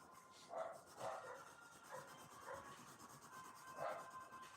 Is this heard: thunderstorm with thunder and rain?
no